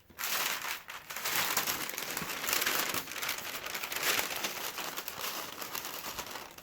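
Wrapping paper crinkles and rustles continuously as it is folded and shaped around a box-shaped item, with close, loud crackling and brief pauses between handling.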